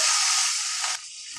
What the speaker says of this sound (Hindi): अब इसमें डालेंगे लहसुन अदरक का पेस्ट ये दो टीस्पून हम डाल रहे हैं इसको थोड़ा सा चलाएंगे